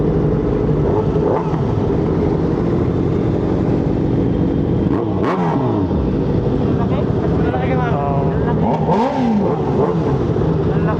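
A big bike ridden on the road home revs its engine repeatedly, pitch sweeping up and down in bursts over a constant roar of wind buffeting the microphone, with a voice talking faintly underneath.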